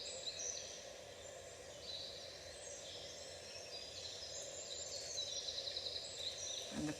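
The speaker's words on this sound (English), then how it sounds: "The only chatter is the noise from the birds." Faint birdsong drifts through a quiet spring forest of ferns and mossy trees, scattered high chirps and trills over a soft steady hush, distant and continuous with no voices.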